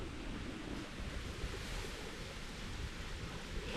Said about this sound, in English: And the water will race kind of quick.